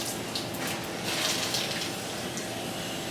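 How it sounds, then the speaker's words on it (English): Soapy water from hand-washed laundry being wrung out in a steady, close splashing and trickling stream with no talk. "I give it a good squeeze. So I try and get out as much juice as I can,"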